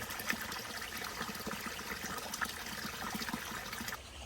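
Water sloshes and trickles as a bowl is scrubbed in soapy water on a trail campsite, with soft rubbing and occasional light clinks, steady and close, fading near the end.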